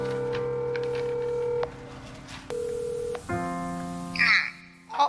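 A telephone number is keyed in on a phone, a series of distinct DTMF beeps of differing pitch in quick succession, followed by a brief ringing tone, with no speech.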